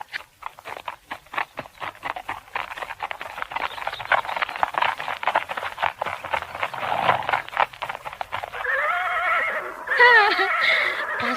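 Horses neigh and whinny with clopping hooves in a radio drama effect for a girl riding with ten mounted men; steady trotting hoofbeats fill most of the clip, then loud whinnies rise near the end.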